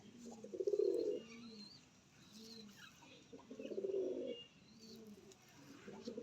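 High flyer pigeons cooing nearby in low, throaty bursts, two long coos with softer ones between, over faint background chatter and ambient noise.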